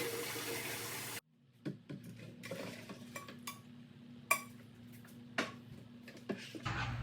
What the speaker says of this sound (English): fill up gallons of hot water and pour it into your bucket